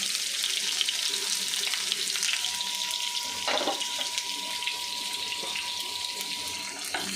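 Garlic frying in hot oil in a wok, a steady close hissing sizzle with occasional scrapes and knocks of a stirring utensil, no talking.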